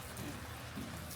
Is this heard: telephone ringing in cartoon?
no